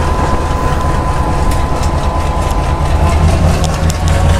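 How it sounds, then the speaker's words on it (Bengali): Banglabandha Express pulls out of Ruhia station, a loud, steady rumble of engine and rolling wagons with faint rhythmic rail clacks, close by and continuous. "আমাদের ট্রেন বেরিয়ে যাচ্ছে রুহিয়া স্টেশন থেকে"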